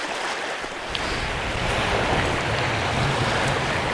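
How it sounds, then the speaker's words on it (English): Steady, strong wind gusts buffet the microphone beside Crummock Water in the Lake District, producing a continuous broadband roar that swells slightly and never lets up. "It's a bit windy."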